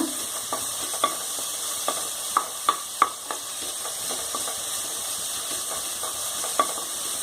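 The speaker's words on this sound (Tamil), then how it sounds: "கொஞ்சம் இஞ்சி பூண்டு தட்டினது போட்டுக்கோங்க. நல்லா வதக்கி விடுங்க." Steady sizzling of crushed ginger and garlic frying in a pan, with occasional light clinks and scrapes of a spoon stirring.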